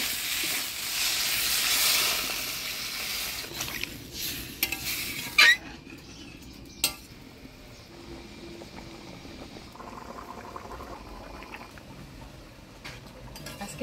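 A potato and spice curry cooks in a pan after water is poured in, with an initial loud hiss that settles into a softer bubbling simmer, broken by a few sharp clinks of a spoon against the pot.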